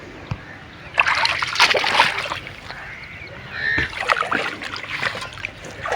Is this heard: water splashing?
yes